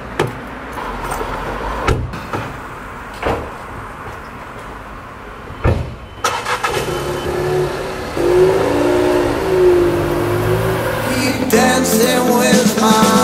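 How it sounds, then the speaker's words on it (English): City street with traffic and a tram unable to pass: continuous engine rumble and passing vehicles, scattered knocks and clatter, then a louder, denser stretch with tonal squealing and rumbling as the tram and cars jostle nearby. "everybody's honking and the tram can't pass here, so also the tram is making a whole lot of noise"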